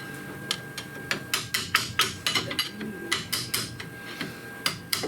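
Hammer blows on the inner tie rod of a 1998 Toyota Sienna, a rapid series of sharp metallic strikes in uneven bursts, close and fairly loud.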